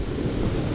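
Water rushes steadily along a hiking trail near Rainbow Falls, a dense, even wash of noise with no breaks, fairly loud and close.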